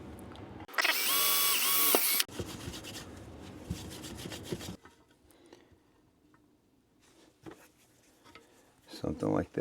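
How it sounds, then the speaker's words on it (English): A loud power drill whirs in a steady burst, then rougher grinding and rubbing follows before quieter scraping and a final short burst. "Just make little holes in the ground or wherever it is you're drilling."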